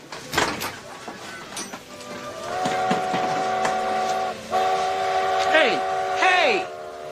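A train's whistle sounds in several sustained blasts, loud and fairly close, the later ones bending downward in pitch, over rumbling rail noise and brief background voices.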